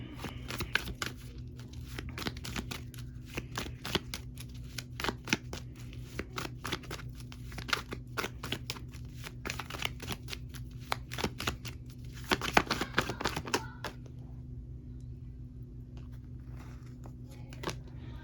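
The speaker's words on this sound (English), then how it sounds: "Let me pull another card and see." Tarot cards are shuffled close by in repeated bursts of rapid riffling and flicking, with short pauses between, and quiet background hum otherwise.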